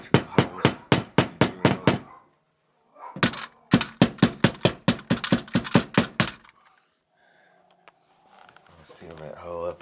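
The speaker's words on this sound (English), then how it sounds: "Use a hammer and drive the back plates into the holes." Hammer driving thermostat back plate anchors into wall holes: two bursts of rapid, loud, evenly spaced taps, about a dozen each, separated by a short pause, followed by quieter handling noise.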